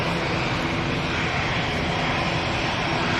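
An easyJet airliner at Manchester Airport gives off a steady broadband roar of jet noise, loud and continuous throughout with no breaks.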